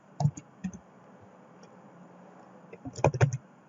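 Keyboard typing in a spreadsheet program: two short bursts of clicky keystrokes near the start and a denser cluster near the end, with quiet room tone in between.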